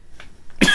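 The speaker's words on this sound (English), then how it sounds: "I've had this cough lately" A single sharp cough bursts out close to the microphone, preceded by a couple of faint breathy throat sounds.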